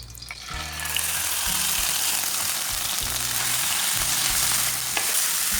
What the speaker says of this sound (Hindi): ऑयल हमारा गर्म हो चुका है। आलू और प्याज डाल लेंगे।